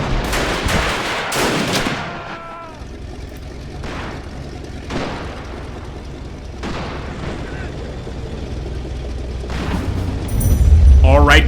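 Rifle fire in the Interwar Mod, Second Italo-Ethiopian War 1935 battle, a rapid burst of close shots at first, then scattered distant cracks and booms over low battlefield rumble.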